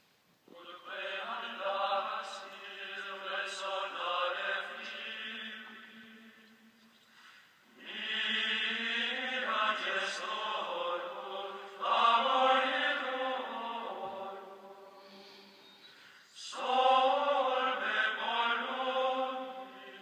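Medieval chant attributed to Guido of Arezzo, sung on solfege syllables: unaccompanied voices in three long phrases separated by short breaths, with smooth melodic lines and no speaking.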